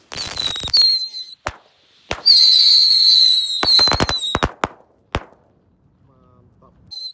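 Loud bursts of crackling from a pack of Thor tikusan firecrackers lit at once, mixed with shrill whistling, coming in clusters with short gaps, ending in a few isolated pops.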